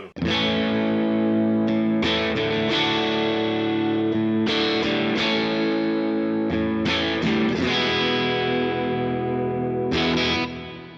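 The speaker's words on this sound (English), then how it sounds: "This is more rhythm with a little bit more of a reverb." Electric guitar strummed in rhythm through an HX Stomp multi-effects unit, with moderate drive and extra reverb. Repeated chord hits ring out and sustain, each new attack cutting into the wash of the one before, loud and without talk.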